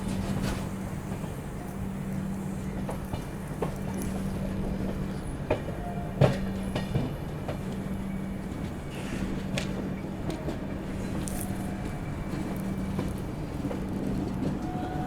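The Avadh Assam Express rolls along a single-line electrified railway section with a steady low rumble of rail noise, scattered clicks and clacks of wheels over joints, and a faint squeal now and then.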